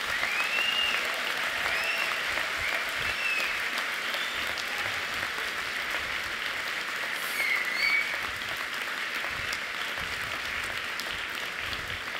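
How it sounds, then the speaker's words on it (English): Sustained applause from an audience at a graduation ceremony, a steady wash of clapping with a few faint whoops, lasting the whole stretch without speech. "I want you to give a big round of applause for all the people who've been there for you"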